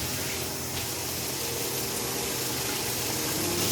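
Shower water running steadily and close, a continuous broadband hiss of spray that holds even and unbroken from start to finish, with no talk over it.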